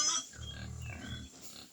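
A farm pig lets out a short, low grunting snort at close range, rough and throaty, lasting about a second before fading.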